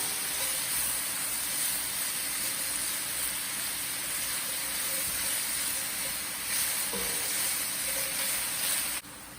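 Mushrooms and farro risotto ingredients sizzle steadily in a hot pan while being stirred, a continuous close hiss throughout that drops away slightly at the very end.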